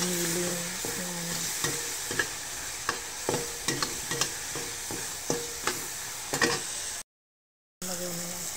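Garlic, onion and a little ground meat fry in a pan, a continuous close sizzle broken by regular scraping stir strokes and small pops, cut by a short silent gap near the end.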